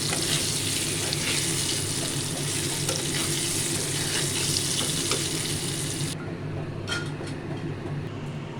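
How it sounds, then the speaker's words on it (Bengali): Potatoes frying in hot oil produce a constant crackling sizzle nearby, with no talking. The high hiss drops off abruptly about two-thirds of the way through, leaving a duller background. "আলু ভাজা হয়ে এসছে"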